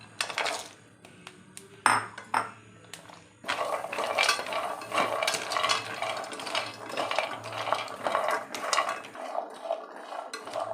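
Almonds and cashews dry roasting in a pan, with a few sharp metallic clinks and then continuous close stirring and rattling of nuts against the pan, steady and busy.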